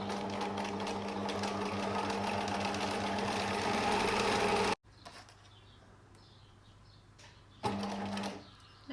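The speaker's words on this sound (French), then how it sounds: "je viens faire ici à la machine un point zigzag" A sewing machine runs a zigzag stitch on fabric for a face mask, a loud rapid mechanical whir that stops abruptly, then a quieter pause before a brief second burst of stitching.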